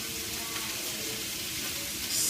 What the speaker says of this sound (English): It's okay for them to just be kind of sizzling, because like they're just going to kind of brown up really good.